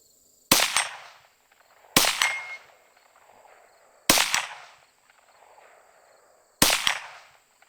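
Four sharp shots from a Rossi RS22M .22 Magnum rifle strike a steel target outdoors, each crack followed by a ringing metallic clang that fades over about a second, with pauses between shots and no talking.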